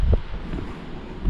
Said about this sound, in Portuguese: como tá ventando muito hoje